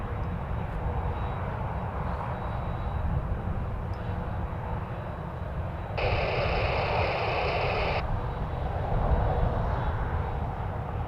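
A Boeing 737-700 airliner at Toronto Pearson Airport, heard as a steady, loud broadband roar of jet engines held throughout, with a brief brighter hiss partway through.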